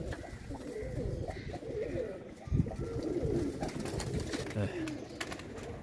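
Pakistani pigeons coo on a rooftop, soft repeated throaty rolls close by, with a brief knock and faint background noise.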